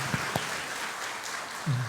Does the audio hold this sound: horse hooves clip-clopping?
no